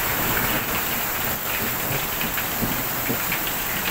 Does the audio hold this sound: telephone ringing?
no